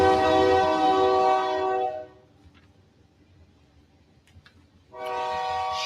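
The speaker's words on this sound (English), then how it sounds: "you're about to hear a train." A passing train sounds a loud, sustained horn blast, falls quiet for a few seconds, then blasts the horn again nearby.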